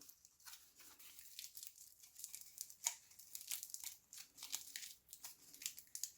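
Tin foil being peeled off a homemade rock, a quiet close run of crinkling and tearing rustles in irregular bursts, alone with no talk.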